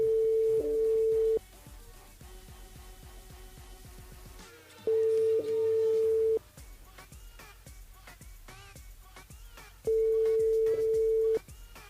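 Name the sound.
telephone call ringing without answer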